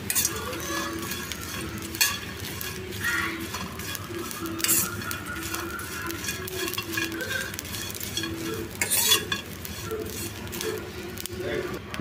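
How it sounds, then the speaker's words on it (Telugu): Dried prawns fry and are stirred in a pan, a continuous sizzle broken by repeated scraping and clattering of a spatula against metal, with a voice talking over it. "ఒక 2 నిమిషాలు దోరగా ఫ్రై చేసుకోవాలి. మనకి చాలా తక్కువ టైంలోనే ఇవి వేగిపోతాయి."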